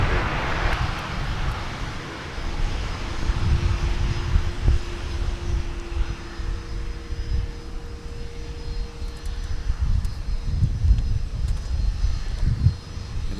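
Airliner landing on runway 12 right at Minneapolis–St. Paul Airport, heard from outside as a steady, fairly loud roar of jet engines with a low rumble that swells and settles over several seconds.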